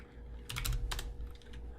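Quick bursts of typing on a computer keyboard, a short flurry of crisp key clicks close to the microphone with a brief pause in between.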